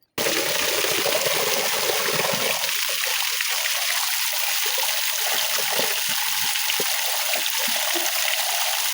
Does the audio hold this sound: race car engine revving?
no